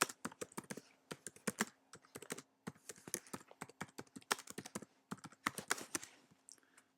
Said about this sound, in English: You would just simply type in